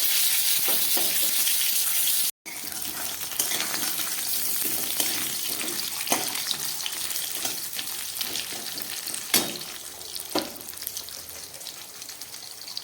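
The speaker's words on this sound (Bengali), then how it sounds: "আলুটাকে এবার একটু ভেজে নেব ভালো করে।" Potato pieces sizzle in hot oil in a pan along with a bay leaf, making a steady close frying crackle with brief stirring and a short drop to silence near the start; no one speaks.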